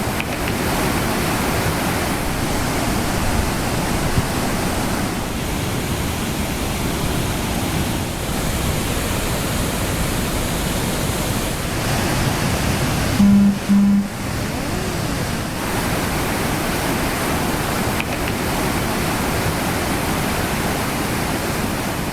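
Courtallam falls in flash flood, a broad, steady roar of heavy water pouring down, loud and continuous throughout with a brief dip midway.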